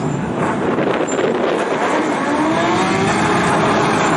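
Racing sidecars at Rosebank Speedway, a dense roar of engines holding steady and loud as the field waits before the start, with heavy wind rumble on the microphone.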